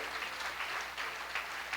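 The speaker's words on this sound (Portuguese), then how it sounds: "Aplauda o Senhor," A church congregation claps together, a thick, steady wash of applause that stays loud and even for under two seconds.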